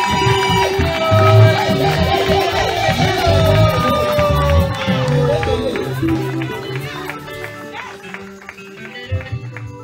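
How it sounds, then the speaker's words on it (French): A church congregation at an ordination service cheering and acclaiming Jesus Christ, loud crowd whoops and clapping mixed with singing and music that fades toward the end. "Acclamons pour Jésus-Christ."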